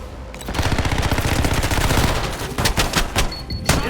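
Rapid automatic gunfire rattles in an Xbox shooter game in a sustained loud burst, then breaks into a few separate sharp shots near the end.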